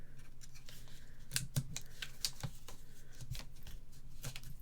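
Scissors cutting paper for a Stamperia album: a close, quick run of crisp snipping strokes in an uneven rhythm, with no voices.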